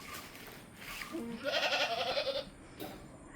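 A large, tall goat on a dairy goat farm gives one clear bleat close by, a wavering cry lasting about a second, followed by a short fainter call.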